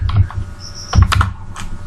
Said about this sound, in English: I type repeat